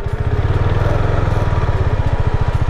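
A KTM RC 390 motorcycle engine runs close by at a steady idle, its rapid, even firing pulses throbbing low and loud throughout with no talk.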